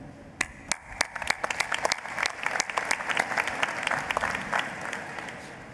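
An audience at a nursing and health sciences college commencement ceremony claps. Scattered claps build quickly into sustained, fairly close applause, then it begins to fade.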